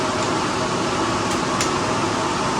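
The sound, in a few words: car engine running with a misfire skip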